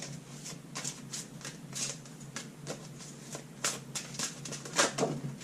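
Crisp riffling and flicking of tarot-style reading cards being shuffled by hand, a quick irregular run of close, soft papery bursts with no talking.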